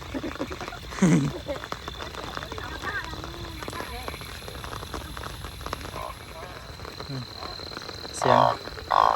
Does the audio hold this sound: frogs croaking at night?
yes